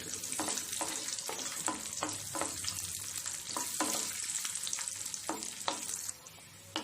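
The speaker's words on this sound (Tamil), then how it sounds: "முந்திரி போட்டு வறுத்து எடுத்துக்கலாம்." Cashews and raisins fry in hot ghee in a pan, giving a continuous hiss broken by a regular run of spoon scrapes and stirs, fairly quiet and close.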